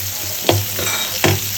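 Prawns frying in hot oil give a steady close sizzle, with two louder bursts of spatter as pieces are stirred or turned in the pan; no voices.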